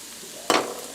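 Garlic hitting hot oil in a pan for a broccoli and ham quiche, a sudden close sizzle that bursts in and then settles into a steady frying hiss.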